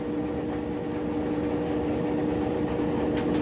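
A washing machine on a spin cycle gives off a steady low hum and rumble with a constant droning tone, heard up close and unbroken throughout.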